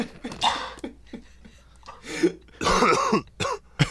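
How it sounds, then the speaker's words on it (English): A person coughs and clears their throat several times in uneven bursts, some harsh and drawn out, close to the microphone with short breathy pauses between. "I thought somebody was really coughing"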